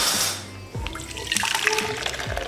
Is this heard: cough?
no